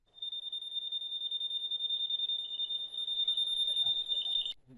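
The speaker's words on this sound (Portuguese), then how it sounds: "Tem um bip legal e a indicação do NCV ali." A continuous high-pitched electronic beep from a FNIRSI DMC-100 clamp meter detecting non-contact voltage sounds steadily for several seconds, then cuts off abruptly.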